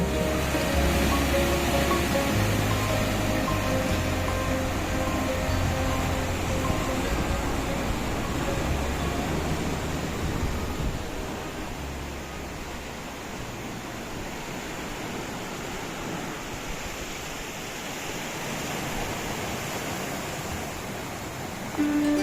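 Waves wash steadily onto a small golden-sand beach in Goa ringed by high hills, a continuous soft surf roar with no talking.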